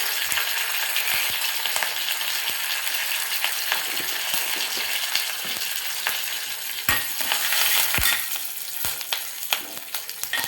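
Curry leaves and asafoetida crackle and sizzle in hot oil with cumin for a tempering, a steady dense frying hiss with sharp pops scattered throughout, close and fairly loud.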